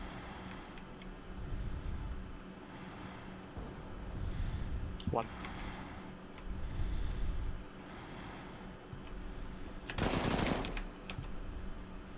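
Gunfire in a competitive Counter-Strike: Global Offensive match, with bursts of shots and one loud sharp volley near the end, heard under a steady background hum while a player calls out.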